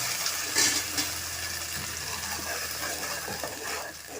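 Ground paste is poured into chillies, garlic and curry leaves frying in a pan for a banana kadhi, then stirred, giving a steady sizzle with soft scraping and a brief splash near the start.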